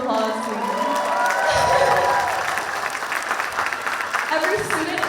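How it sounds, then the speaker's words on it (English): A crowd at a university student cultural show claps and cheers continuously, with scattered shouts and whoops rising over the steady applause. "Give him a round of applause, please."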